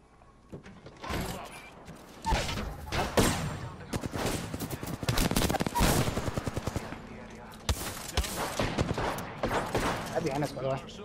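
Rapid bursts of gunfire in the video game Apex Legends, including a hand cannon, repeat loudly in stuttering volleys throughout, with players talking between and over the shots.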